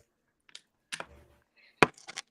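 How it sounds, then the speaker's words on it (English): A few sparse, separate keystrokes on a computer keyboard, close and clear, with silent gaps between the clicks. "I hate typing on a computer."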